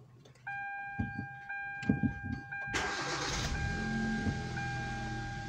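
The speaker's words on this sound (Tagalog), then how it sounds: "Paandarin natin makina." A 2012 Hyundai Veloster's engine cranks and catches after a few clicks and a steady electronic chime, then settles into a smooth, close idle with the tone still sounding.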